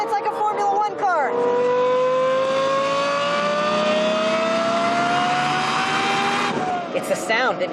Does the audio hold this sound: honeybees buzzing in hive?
no